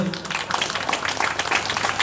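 Dense, steady crowd applause from an audience at an Indonesian religious gathering, continuous and fairly loud for about two seconds, with a faint voice beneath it.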